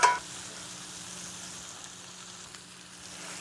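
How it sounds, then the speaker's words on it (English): Short ribs sear in a pan, a quiet, steady sizzle with a soft hiss that holds evenly after a brief clunk at the start, no voices over it. "We're searing those short ribs again"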